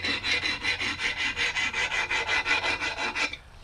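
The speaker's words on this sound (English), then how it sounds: "I'm just hitting it real light with this file." Hand file rasping lightly across a steel axe head in steady, even back-and-forth strokes, close and clear, about fifteen rhythmic passes before stopping.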